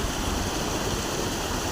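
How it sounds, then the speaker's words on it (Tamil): A clear, icy mountain stream near Atal Tunnel at Rohtang, in rainy weather, rushes steadily with a dense, even wash of flowing water and no break or change. "பாருங்க தண்ணி எவ்வளோ க்ளீனாக வந்து ஊற்றிக்கிட்டு இருக்கு."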